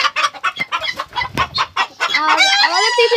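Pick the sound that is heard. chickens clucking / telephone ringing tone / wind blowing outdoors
chickens clucking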